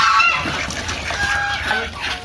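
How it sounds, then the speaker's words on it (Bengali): Geese and ducks, including Chinese geese and common ducks, honk and call at feeding time on a village farm, loud and close, with overlapping calls running throughout. "হাঁসের খাবার, রাজহাঁস, চীনা হাঁস এবং পাতি হাঁস সব হাঁসই এই খাবারটা খাবে।"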